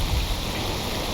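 Rain in the video game STALKER Old World Addon, a dense, steady hiss of falling drops with a low rumble beneath, with no voices.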